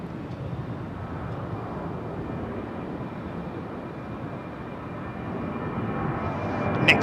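A KLM Boeing 737 Next Generation airliner departs Heathrow on runway 09R, a steady, moderately distant engine rumble and rushing noise that grows slightly louder toward the end, with no talking.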